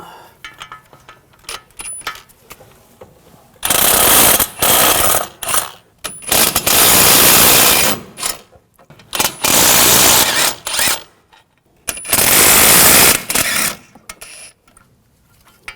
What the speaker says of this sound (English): Now using a 18mm socket, we're going to take these bolts out.